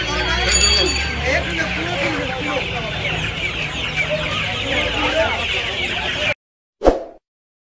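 Many chickens and roosters cluck steadily and crowd together at a busy poultry market selling country hens and roosters, with a voice talking over the flock before a brief sharp sound near the end.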